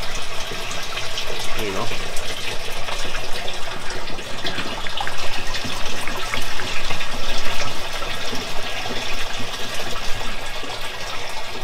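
Raw vegetable oil pours steadily into the screen of a bio-diesel processor, a continuous splashing liquid stream heard close up, with a voice speaking briefly over it.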